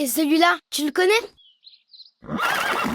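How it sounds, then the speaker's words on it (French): A cartoon horse in a children's animated show whinnies loudly and near at the end, following a child's spoken question and a brief pause with faint chirps. "Un cheval."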